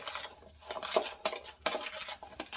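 A spoon stirs a sugar and lime mixture in a bowl, making several quick, irregular metallic clinks and scrapes against the sides, close and moderately loud, with quiet gaps between strokes.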